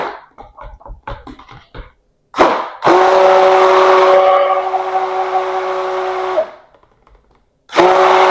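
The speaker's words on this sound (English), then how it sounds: "let's add the stick blender to this really quick" An electric stick blender whirs through goat milk soap batter for a black raspberry vanilla bar: a loud steady buzzing drone of about four seconds with a wavering pitch, then a pause and a second burst, after some light clinking.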